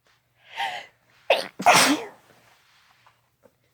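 A single person sneezes loudly and close up, a short inhaled buildup followed by two sharp explosive bursts, with no talking around it.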